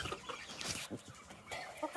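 Chickens and small chicks cluck and chirp in a chicken house, with scattered clucks and bright peeps at close range under a busy, rustling background.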